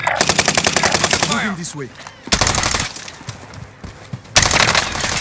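Rapid video game gunfire rattles in loud automatic bursts and scattered shots, stopping and starting, while a player talks over the shooting.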